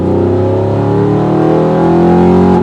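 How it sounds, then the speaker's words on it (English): A V8 engine fitted with a full titanium aftermarket exhaust revs loudly and steadily up close, its deep harmonic drone holding strong and climbing slightly in pitch. "Making its way to number 2 would have to be the sound of the V8."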